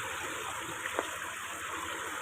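Floodwater rushes in a steady, broad hiss through a flooded street in Cainta, Rizal, a continuous, moderately faint flow with a brief splash near the middle.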